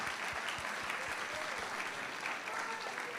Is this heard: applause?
yes